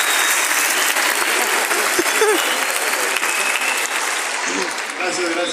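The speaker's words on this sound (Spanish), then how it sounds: "Muchas gracias y un aplauso para ustedes por ayudarme." Dense, sustained applause from a large theater audience at a symphony concert, loud and steady throughout with a brief voice heard beneath it.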